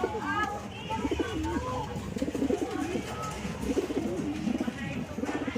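Pigeons kept as gift birds coo in repeated soft, rolling calls close by, several birds overlapping in uneven bursts, with someone talking over them.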